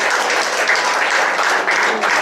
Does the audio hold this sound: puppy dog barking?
no